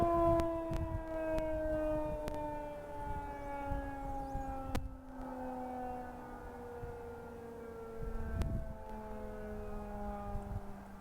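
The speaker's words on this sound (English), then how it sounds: "This is a test of the City of Duncan outdoor warning siren." An outdoor warning siren sounds during a test. Its wailing tone slowly falls in pitch, and a few sharp clicks cut through it.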